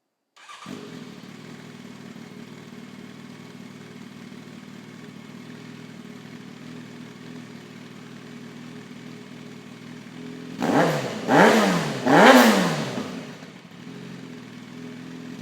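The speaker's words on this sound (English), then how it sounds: "let's hear what that sounds like, and I'll hit the rev limiter" A Yamaha FZ1 motorcycle with a reflashed ECU idles close by, then revs hard three times in quick succession, each rise climbing sharply toward the rev limiter before dropping back to a low idle.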